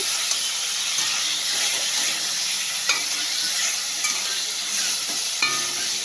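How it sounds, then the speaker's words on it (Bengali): Loud, continuous sizzling of cauliflower frying in hot oil in a pan, with a few faint clinks over the steady hiss. "কপিগুলো আমি ভালো করে ভেজে দিচ্ছি"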